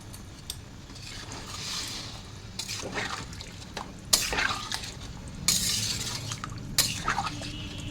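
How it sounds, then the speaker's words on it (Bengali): Water poured into a pot of mukhi kochu (taro root) curry, with splashing and trickling plus clinks of a spoon against the pot and stirring, close and moderately loud in sharp bursts. "এবারে জল দিয়ে দেবো।"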